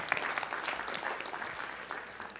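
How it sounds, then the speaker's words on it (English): A crowd at a school board of education meeting applauds the school band, steady clapping filling the room alone from start to finish. "We can give them all a round of applause."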